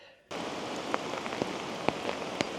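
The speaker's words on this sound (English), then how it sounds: "It's definitely raining pretty hard now" Hard rain pours steadily onto the ground and nearby surfaces at the end of a road, a dense close hiss with scattered louder drop impacts and no talking.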